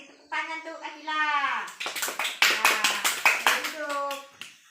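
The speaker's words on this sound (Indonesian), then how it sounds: "kasih tepuk tangan tuh" A classroom of children claps together for a classmate, a burst of quick, uneven hand claps rising after a teacher's talk, with a voice before and after the applause.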